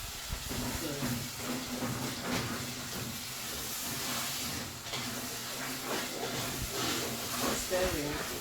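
Tinned tomato frying in a pot for stew, a steady sizzling hiss that runs continuously and fairly loud throughout, with a voice talking over it.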